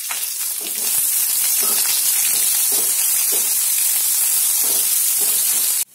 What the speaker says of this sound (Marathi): त्यानंतर बारीक चिरलेला उभा कांदा हा चांगला परतून घ्यायचा.